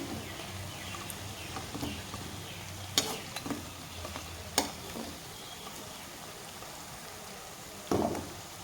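Puffed fuluri fritters frying in a pan of oil give a soft continuous sizzle, with a few sharp utensil clicks and scrapes spaced through, and no talking.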